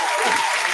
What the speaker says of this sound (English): clap it up for myself